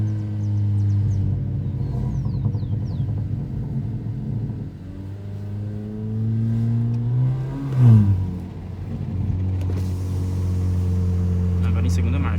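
A car engine idles and revs gently under light throttle, a steady low rumble that swells into a brief rise near the end before settling, close and continuous.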